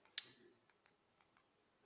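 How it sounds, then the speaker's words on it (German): A single sharp click from a slide clicker advancing presentation slides during a church sermon, followed by a few faint, scattered ticks in an otherwise quiet room. "Ich darf hier klicken."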